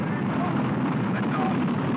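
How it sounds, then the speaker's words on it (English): The Explorer I rocket roars through ignition and lift-off as a steady, dense, rumbling blast that stays loud and unbroken throughout. "Fire command. Ignition. Mainstay. Lift off."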